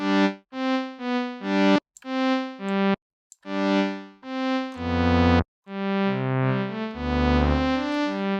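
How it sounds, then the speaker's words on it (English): Baby Audio BA-1 synthesizer notes that swell in and cut off abruptly, like reversed sounds, playing a choppy sequence of rising tones with some distortion and echo. "Nice for creating kind of reverse effects"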